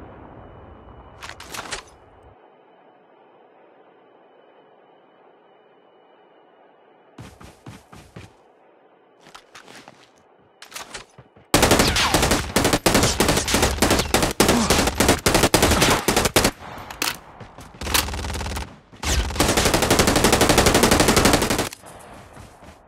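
Call of Duty gunfire: a few scattered shots over a quiet background, then long, loud bursts of rapid automatic fire close by, broken by brief pauses.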